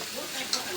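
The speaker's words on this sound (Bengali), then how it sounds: "মশলা একেবারে ভাজা ভাজা করে নিলাম।" A brief, steady sizzle of coriander powder and ginger-garlic-cumin paste frying in a hot pan, soft and close.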